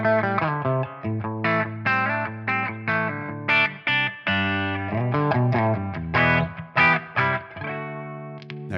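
An electric guitar played through a Tonex amp model on its clean setting, neck pickup, ringing out sustained chords and arpeggiated notes in a steady phrase with chorus-like shimmer, alone and fairly loud.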